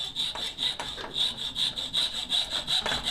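A hacksaw cuts the excess wood off a wedge set in a hammer handle, rhythmic close rasping strokes back and forth, roughly three per second, alone.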